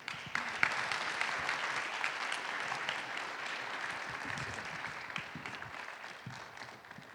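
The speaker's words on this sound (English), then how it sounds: "Let's give a warm CSU round of applause and welcome to Dr. Dunn and Dr. Whitman-Rich." Audience applause at an evening salon talk at a university, dense steady clapping from a large crowd that runs the whole time and tapers slightly at the end.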